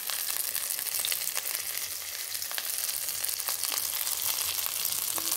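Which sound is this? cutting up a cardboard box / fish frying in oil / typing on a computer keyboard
fish frying in oil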